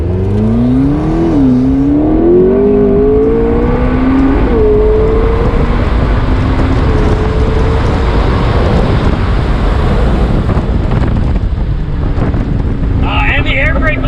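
A 2016 McLaren 650S with a twin-turbo V8 that revs to 8,500 accelerates hard. Its engine note climbs through rising revs, then holds a loud, sustained roar as heavy wind noise buffets the microphone.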